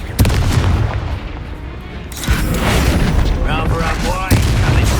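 Confringo fire spell explosions in Hogwarts Legacy: a sudden booming blast followed by a rumbling tail, then another burst of crackling fire and impacts, with a voice shouting at the same time.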